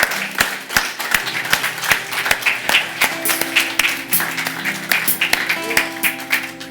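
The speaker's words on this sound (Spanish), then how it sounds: "Démosle un fuerte aplauso al Señor por estos hermanos" A church congregation claps steadily and rhythmically in unison, a bright continuous patter, with sustained musical tones underneath.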